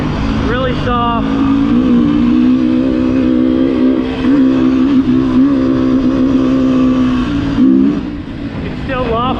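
A 2019 Beta 350RR-S dirt bike engine revving hard while being ridden, a loud, steady, close drone with pitch rising and dipping through gear changes and rev-outs.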